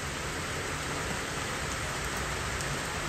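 A dense, even hiss of first-monsoon rain pours steadily onto surfaces nearby, filling the whole stretch without pause and with no voices.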